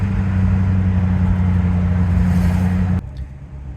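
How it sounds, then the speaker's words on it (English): A Rolls Royce Silver Shadow engine idles steadily and smoothly with a low, even drone despite an exhaust leak, close and continuous, then cutting off abruptly near the end. "Can you hear the idle? It's so quiet and so smooth, even with the exhaust leak."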